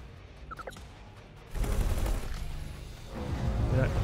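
Turret gunfire in X4: Timelines, heavy booming fire that swells in abruptly after a quieter stretch and keeps rumbling with dense, overlapping blasts through to the end.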